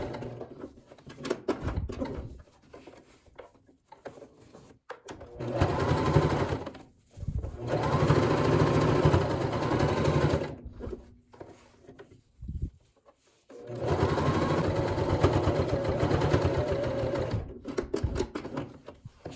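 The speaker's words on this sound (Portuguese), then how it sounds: "que eu vou passar um pesponto à máquina mesmo" A sewing machine set to stitch length 4 runs a topstitch around a patchwork fabric piece, whirring in several loud sustained runs broken by short stops and quiet gaps where the work is turned.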